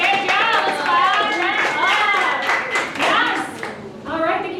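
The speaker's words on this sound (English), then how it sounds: "let's clap" An audience at a live stage show claps as a presenter comes up, rhythmic hand claps mixed with loud overlapping voices, including children's.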